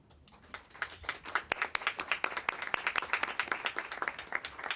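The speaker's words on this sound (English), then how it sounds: "so you can get a round of applause from everyone" Applause from an audience at a city council meeting starts as scattered claps and quickly builds into steady, crisp, rhythmic clapping from a fair-sized group, continuing close and clear throughout.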